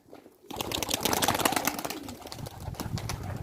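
A flock of pigeons stirs close by, giving soft coos and flurries of wing flaps that rise suddenly after a quiet start and continue busily throughout, with no talking.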